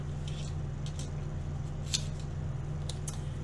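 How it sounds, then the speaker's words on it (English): An electric die cut machine feeding a paper stocking topper through its rollers, giving a steady low motor hum with faint scattered clicks and rustles over a few seconds. "So let's go run it through the die cut machine"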